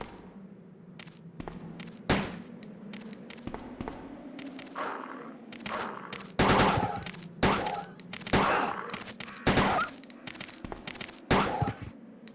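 Handgun shots ring out in Resident Evil 2 on PS1, with several loud, sharp cracks spaced irregularly over a low droning background and metallic clanks between them.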